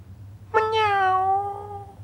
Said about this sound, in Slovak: Mňau.